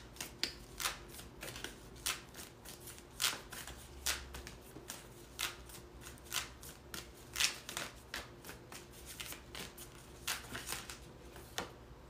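Tarot cards being shuffled up close, a steady run of crisp riffling bursts and soft slaps repeating for about twelve seconds, with no voices.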